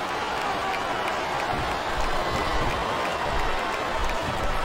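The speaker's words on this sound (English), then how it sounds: "I love hearing the crowd come alive" A virtual arena crowd in the wrestling game WWE SmackDown vs. Raw 2007 keeps up a constant wash of cheering and crowd roar at an even, moderate level with no break.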